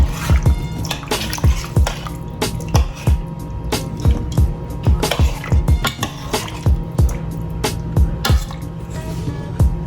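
Spoon stirring blended green seasoning into a pot while cooking Jamaican gungo rice and peas, steady wet squishing and clinking strokes repeating rhythmically and close by, with no voices.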